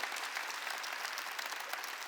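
Church congregation at a Sunday worship service of Jesus Centered Church applauds during the sermon, a dense, even wash of many hands clapping close by without pause.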